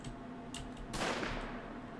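In Wolfenstein The Old Blood, an enemy fires a faint distant shot followed by a louder sharp crack and a decaying rumble, set against a steady low game hum.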